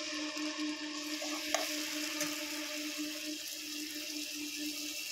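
Green chilli and ginger paste frying in a pan for a fish curry, with a steady low sizzle throughout, close by and with no talking.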